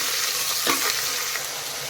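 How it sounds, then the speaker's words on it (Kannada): Potato and tomato frying in hot oil for vegetable pulao, a steady broadband sizzle throughout with a brief stir-like burst partway, close and even with no talking. "ಎಣ್ಣೆಯಲ್ಲಿ ನಾವು ಫ್ರೈ ಮಾಡಬೇಕಾಗತ್ತೆ ಇದನ್ನು"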